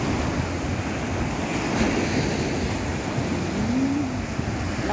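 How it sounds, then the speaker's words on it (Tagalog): Strong ocean waves at San Juan Beach, La Union, a continuous loud roar of surf with heavy wind buffeting the microphone, steady throughout with no talking. "Lakas talaga ng alon."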